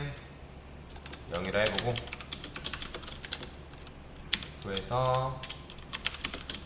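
Keys clatter on a computer keyboard in quick, soft bursts of typing while someone speaks Korean over them.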